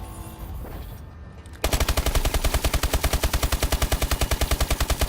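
Video game gunfire at a firing range: a weapon with controlled recoil fires a long, rapid automatic burst of evenly spaced loud shots close up, starting abruptly after a quieter stretch, with no speech.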